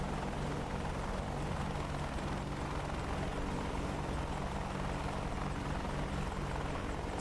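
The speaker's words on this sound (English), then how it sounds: "It seems so slow when you do the flyby, dude." A slow propeller aircraft drones past in a flight game, a broad continuous engine roar holding steady throughout, loud and close with no talk.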